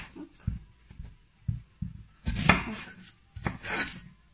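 Onions are chopped on a board in a steady series of close knife knocks, about two a second, with a couple of longer scraping strokes between them.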